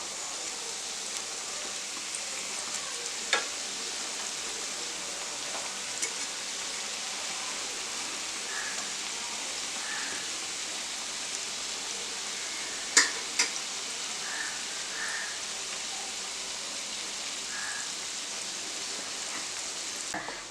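Donuts frying in hot oil make a steady, even sizzle throughout, with a brief clink or knock near the middle as they are turned over.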